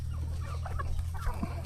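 A country rooster (naattu kozhi) on a native chicken farm at feeding time gives short, close clucks over a low steady hum of background noise, with no talking.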